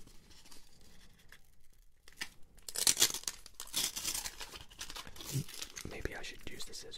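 Paper wrapper of an NBA sticker pack being torn open by hand, close and crisp, with short ripping and crinkling bursts spread through the clip after a quiet pause, under soft whispered speech.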